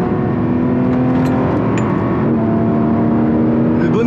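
Race car engine revving hard on a circuit, a loud, close, continuous high-pitched whine holding steady with slight pitch shifts.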